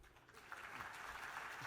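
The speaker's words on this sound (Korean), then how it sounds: "박수." Applause from an audience at a quality-management conference concert in Korea, a short, faint wash of clapping that swells after a quiet start and holds steady.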